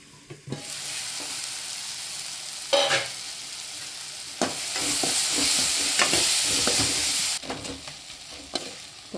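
Chopped tomatoes sizzle and fry in a pan for a side dish, a steady hissing bed broken by repeated scraping stirs and clanks, rising louder midway, close up with no talking.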